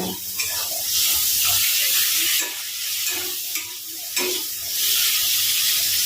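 A spoon stirs chilli through fish curry frying in a pan, steady close sizzling with scraping strokes that come in several rhythmic sweeps, the hiss swelling and dipping as the mix turns.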